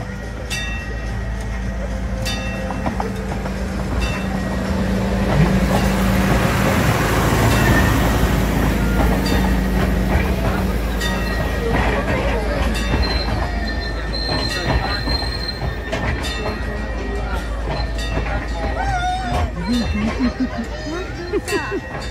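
A train rumbles past close by at Legoland Windsor, its wheels squealing and screeching on the rails throughout, with faint voices in the background.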